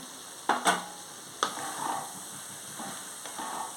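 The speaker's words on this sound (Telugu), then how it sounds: "వంకాయలు ములంకాయలు మగ్గాయి ఇప్పుడు టమాటీలను కరివేపాకు వేసేసుకుంటున్నాను" Tomatoes and curry leaves drop into a pan of frying brinjal and drumstick curry, giving a few sharp sizzling bursts and stirring scrapes spread across a quiet background, with no talking.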